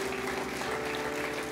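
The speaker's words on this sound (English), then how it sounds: "can we clap our hands right now for the people who gave their life to Christ?" A church congregation clapping their hands together, a dense, even patter of many claps sustained throughout at moderate loudness, with no voices standing out.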